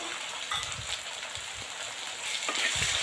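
Chopped tomatoes and onions frying in an oil-filled pan with curry leaves, a steady close crackling sizzle with soft popping, with no voices.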